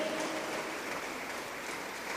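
A church congregation claps together, producing a faint, even wash of many hands that carries on steadily without speech.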